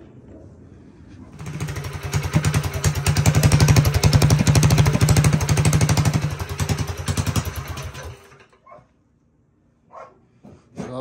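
A mini bike engine fitted with a torque converter and new chain and sprocket starts up and runs with a loud, rapid buzzing putter that swells, holds for several seconds, then cuts out, followed by a few faint knocks.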